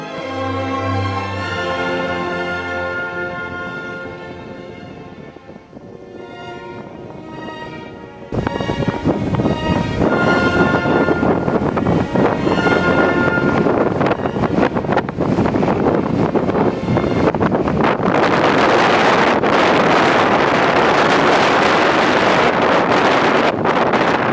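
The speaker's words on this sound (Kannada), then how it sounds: "ಒಮ್ಮೆಲೆ ಅಷ್ಟು ಗಾಳಿ ಜೋರು ರಭಸವಾಗಿ ಗಾಳಿ ಬರುತ್ತೆ ಆಮೇಲೆ ಸಡನ್ನಾಗಿ ನಿಂತೋಗ್ಬಿಡುತ್ತೆ" Strong wind roars across the Z Point hilltop viewpoint at Kemmannugundi, buffeting the microphone in loud, continuous gusts. Before the gusts arrive, a quieter tonal sound is heard.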